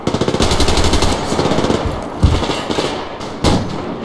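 Rapid automatic gunfire in the game Survarium, a fast close burst of repeated shots followed by a few heavier single bangs, loud and continuous with no talking.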